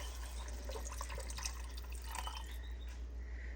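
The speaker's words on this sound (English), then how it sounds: "I'm going to start with a quart of broth." Homemade chicken broth pours into a Dutch oven with a soft, trickling liquid splash and faint dripping over a low steady hum, fairly quiet and close.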